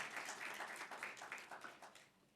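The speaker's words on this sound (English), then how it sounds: "have a big clapping for those people who did this job in India" An audience at a scientific conference on Vedic knowledge applauding: dense, rapid clapping from many hands that is fairly distant and quiet, holding steady and then fading slightly toward the end.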